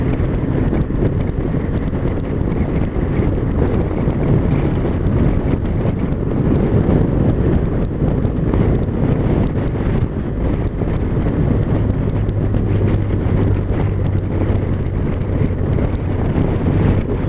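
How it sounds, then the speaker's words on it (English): Strong, steady wind roars and buffets the microphone outdoors near a boat on open water, a loud continuous rumble that never lets up, with no speech. "this sort of wind is actually quite energy sapping"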